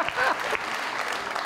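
Audience applause breaks out in a television talk-show studio, a brief burst of clapping that stays fairly steady and moderately loud throughout.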